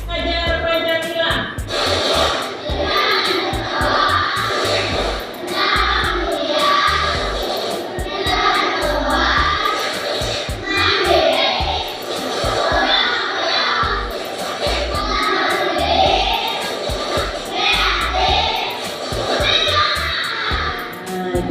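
Students performing the Tepuk Pelajar Pancasila, a group clapping chant: a crowd of young voices chanting together in rhythm with sharp, regular hand claps, loud and sustained throughout.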